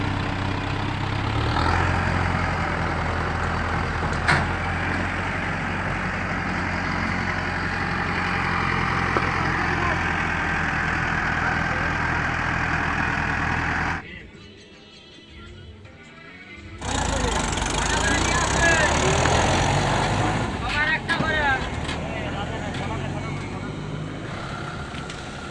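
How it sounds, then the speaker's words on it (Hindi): A tractor with a trolley tips out a load of cow dung on a farm, its diesel engine rumbling steadily up close, with a brief dip midway before the idling resumes. "ट्रैक्टर की टोली से भाई साहब गोबर खाली हो रही है।"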